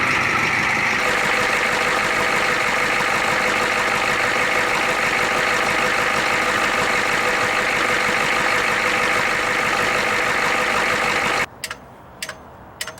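A 1991 Ford F250 idles in cold weather, a loud, steady, rough engine rumble close by that runs unbroken for about eleven seconds before the engine shuts off, leaving a few faint clicks.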